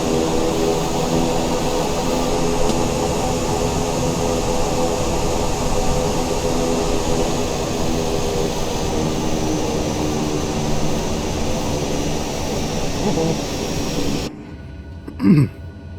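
The E121A1 aircraft engine in Microsoft Flight Simulator 2020 gives off a loud, steady droning whine that holds evenly for about fourteen seconds and then cuts off abruptly, leaving brief faint sounds.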